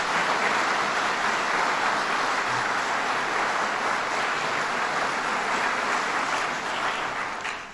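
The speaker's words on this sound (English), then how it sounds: "Let's give him a round of applause, President Stanger." A large audience claps steadily for President Stanger at a Binghamton University event, a dense, even wash of applause that holds at full strength throughout and only begins to thin in the final moment.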